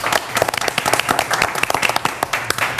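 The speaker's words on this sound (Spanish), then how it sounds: "Y le damos un aplauso" A studio audience applauds on a Colombian football debate television show, a steady burst of dense, close clapping lasting the whole moment without a break.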